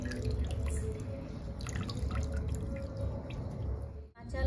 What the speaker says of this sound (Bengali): জলটা কিন্তু ঝরিয়ে নিতে হবে।